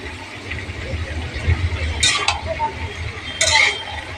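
Bottle gourd and shrimp curry stirred in a pan with a metal spoon, a few light scraping clinks against the pan over a low kitchen hum, with someone talking faintly in the background.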